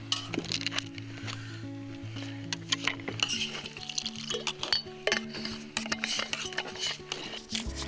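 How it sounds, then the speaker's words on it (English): Potatoes are mashed in a pot during a Thanksgiving dinner cooked over an open fire: irregular squishy thumps and metallic clinks of the masher against the pot, fairly close, over soft background music. "Potatoes, start mashing them."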